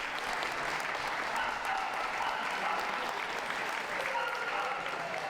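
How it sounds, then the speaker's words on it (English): Dog show audience at WELKS 2017 applauding the reserve Best in Show Petit Basset Griffon Vendée, dense continuous clapping from a crowd, steady and fairly loud throughout. "Round of applause, everyone"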